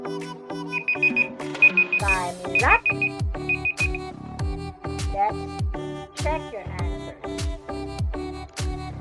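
A countdown timer alarm goes off in a repeated chiming beep pattern, four short bursts over bright electronic background music that carries on afterwards.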